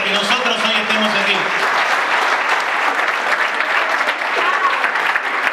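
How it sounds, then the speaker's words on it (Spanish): Loud, dense applause from an audience at a 60th anniversary celebration of the Cassano Irpino association in Buenos Aires, steady and continuous, with some voices briefly audible at the start. "quiero dar un fuerte aplauso para toda esta gente que ha trabajado para que nosotros hoy estemos aquí"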